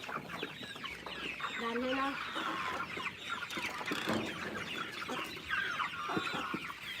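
Hens cluck steadily at feeding time, a busy overlapping chorus of short calls with one drawn-out, tonal cry early on. Faint voices come and go in the background.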